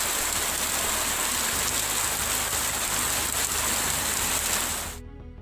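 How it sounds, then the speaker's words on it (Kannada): Heavy, continuous downpour during a storm in Chikkamagaluru, Karnataka, a loud dense hiss of rain hitting surfaces that fades out abruptly near the end. "ಬಿರುಗಾಳಿಯೊಂದಿಗೆ 1 ಗಂಟೆಗೂ ಹೆಚ್ಚು ಕಾಲ ಧಾರಾಕಾರ ಮಳೆ ಸುರಿದಿದೆ"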